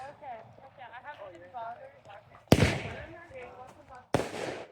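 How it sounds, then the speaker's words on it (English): Fireworks from a reserve set explode outdoors, two sharp loud bursts followed by crackling fallout, while people talk before and between the blasts. "Reserve fireworks are the way to go."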